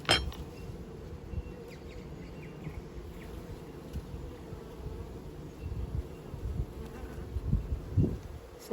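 Honey bees buzz steadily around an open top bar hive during an inspection, a dense close hum with occasional faint clinks, no talking.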